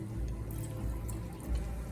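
Milk is poured from a can into a pot of chicken and rice, a short, close liquid splash and trickle with a slightly louder gush near the end.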